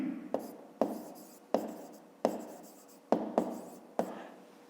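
A pen writes in a math notebook in quick separate strokes, about eight short scratchy bursts each tapering off, spaced irregularly and recorded close.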